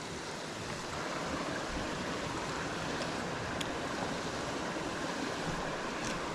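A brook trout stream flows steadily and close by, a dense, even rush of water that holds without pause or voices.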